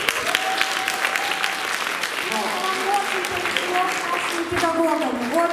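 Steady applause from an audience at a KVN comedy contest continues throughout, dense and fairly loud, with a few faint voices and whistles mixed in.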